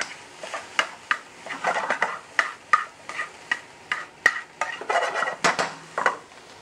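Mushrooms tipped back into a hot frying pan and stirred, with repeated sharp clinks of utensil on metal over a steady sizzle, close and fairly loud, no talking.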